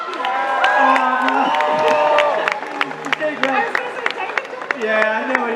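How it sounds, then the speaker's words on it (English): Comic convention crowd in Brussels clapping, cheering and shouting as guests come on stage, scattered sharp claps and excited voices, with people talking over the commotion. "Just clap, come on."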